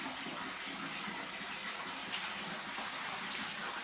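Steady rushing of water pouring from a tap into a bucket on laundry day, loud and continuous with a broad hiss, no voices.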